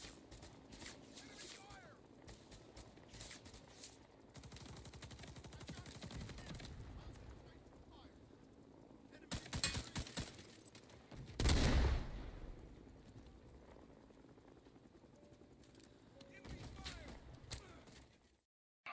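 Gunfire in the video game Rising Storm 2, with scattered shots and short automatic bursts at varying distances, one sharp loud close blast midway, over a low battlefield rumble with voices talking intermittently.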